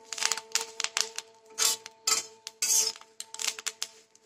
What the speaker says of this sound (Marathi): आता हे चांगलं भाजून घेते